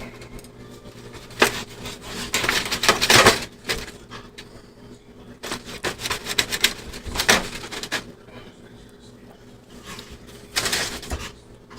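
A knife saws into smoked brisket in repeated bursts of crisp scraping and crunching through the bark, with short pauses between strokes and a steady low hum behind.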